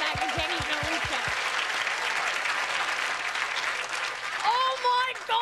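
An audience claps at a stand-up comedy show, a dense sustained wave of applause, with a voice heard briefly at the start and end.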